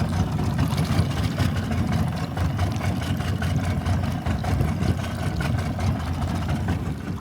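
A two-stroke outboard motor idles steadily in gear with a low, rumbling throb, close and continuous, with no one speaking.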